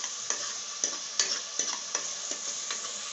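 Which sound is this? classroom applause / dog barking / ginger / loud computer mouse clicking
ginger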